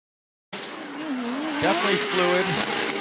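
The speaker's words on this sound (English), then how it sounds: "The Rad Industries Toyota Supra uses all the course, almost gets in the dirt." The Rad Industries Toyota Supra drift car screams through a Formula DRIFT qualifying run in Atlanta, its engine wailing and revving in wavering pitch over a loud, sustained tire squeal that starts abruptly.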